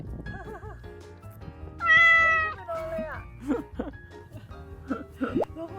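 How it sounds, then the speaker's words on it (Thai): Cats on a cat island in Fukuoka, Japan give several separate meows and rising cries close by, with a cough-like sound and quiet background noise between calls. "ดูแมวขึ้นไปบนตัก"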